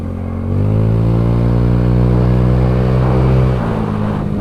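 A carbureted Honda Beat scooter with an upgraded Daytona CVT revs hard up close, its mid-pitched engine drone climbing and holding loud and steady for several seconds before easing off. No one speaks.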